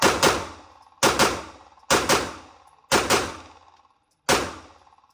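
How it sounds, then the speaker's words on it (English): A Sig Sauer P226 Legion pistol fires at the range in sharp, close double shots, four quick pairs and then a single report, each crack ringing out and decaying before the next. "let's take it to the range and see how it shoots."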